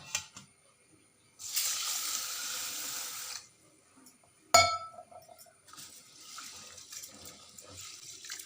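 Running water pours for a couple of seconds, then a sharp clink and sloshing as one cup of rice is swirled and rinsed in a vessel, with no talking.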